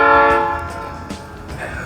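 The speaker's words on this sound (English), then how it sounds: "Trains just going past by the sounds of things, or coming up." A train passing near a restaurant area on a road trip from Perth to Bunbury, Western Australia, its horn sounding loudly at first then fading into low rumbling and rail noise.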